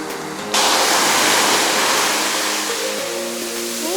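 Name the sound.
sea wave breaking on a Bali beach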